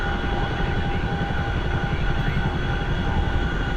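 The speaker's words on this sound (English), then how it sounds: "Oh, what is this Chinook doing?" A Chinook helicopter flying overhead in a war zone in Syria, heard as a loud, steady droning rotor and engine roar with a faint whine running throughout.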